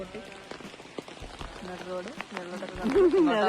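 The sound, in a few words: rain falling outdoors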